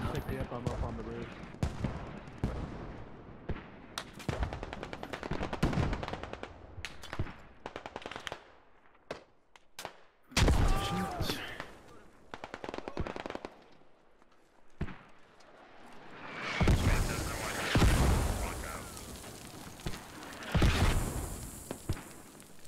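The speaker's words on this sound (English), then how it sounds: "They got mortars right on fucking top of us, dude." Mortar rounds and explosions in the game Squad, heavy bursts and crackling gunfire coming in waves over a battlefield, loudest toward the end, with occasional voices in between.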